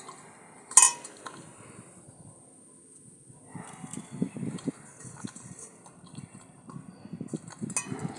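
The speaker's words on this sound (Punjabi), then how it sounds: "ਹੁਣ ਆਪਾਂ ਇਹਨੂੰ ਪਾਣੀ ਚ ਪਾ ਕੇ ਪਾਣੀ ਪਾ ਦੇਾਂਗੇ ਧੋਵਾਂਗੇ ਚੰਗੀ ਤਰ੍ਹਾਂ" Water is poured over cauliflower florets in a vessel to wash them before making gobhi pakoras. A sharp clink is followed by uneven splashing and sloshing, close and moderately loud.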